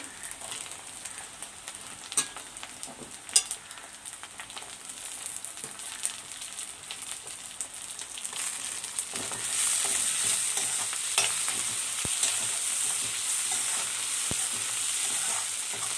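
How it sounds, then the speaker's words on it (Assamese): Tomato frying with garlic and ginger paste for a rohu fish curry, a steady close sizzle with scraping stir strokes that grows louder and fuller midway as the chopped tomato goes in. "অলপ টাইম ভাজি ল'ব লাগিব, নহ'লে ৰহুন, আদা, বিলাহী গোন্ধ থাকি যাব পাৰে।"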